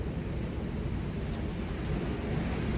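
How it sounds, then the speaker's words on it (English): Steady low wind rumbles and buffets against the microphone, a constant outdoor whoosh with no voices. "I don't know if you can hear the wind blowing out there."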